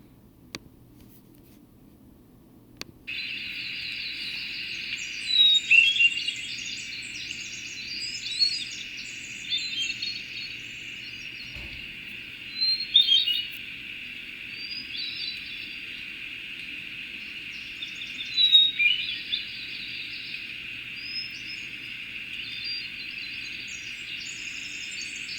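A hermit thrush sings in a forest, its thin, fluty phrases coming every several seconds, far off and faint over a steady, high insect-like drone.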